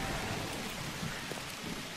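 Heavy pouring rain in the zombie video game Dead Frontier 2, a steady, dense hiss of downpour filling the whole stretch with no voices over it.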